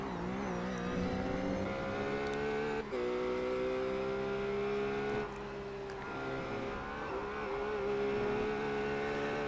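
A race car engine in the iRacing sim roars steadily at high revs, its pitch sliding through gear changes and holding strong without a break, with brief dips between shifts.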